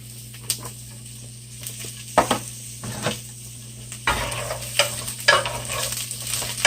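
Peppers and onions sauté in a pan, sizzling steadily while a utensil scrapes and stirs with scattered louder clacks, close and alone.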